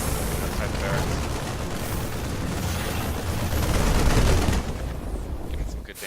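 Units in StarCraft 2 open fire outside a barracks, a dense continuous rattle of game weapon fire and rumbling impacts that swells to a loud peak midway before easing off, with a voice talking over parts of it.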